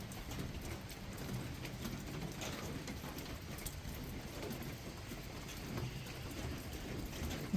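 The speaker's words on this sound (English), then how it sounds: "It's chilly and rainy." Steady outdoor rain on a chilly day, a continuous close hiss and patter of drops on surfaces holding at an even level throughout, with no voices.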